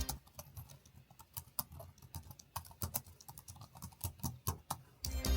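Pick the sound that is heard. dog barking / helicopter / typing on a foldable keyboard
typing on a foldable keyboard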